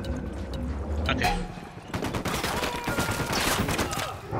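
Gunfire in the video game Ghost Recon: dense, rapid bursts of shots rattle nearly continuously at close range, with a voice talking over the firing.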